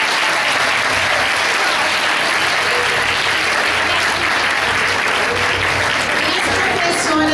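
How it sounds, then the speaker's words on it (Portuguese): Audience applause for the girls of a children's category at an awards ceremony, a loud, dense and steady ovation filling the room without a break, with a few voices mixed into the clapping. "Eu gostaria de pedir aplausos a todas as meninas que participaram"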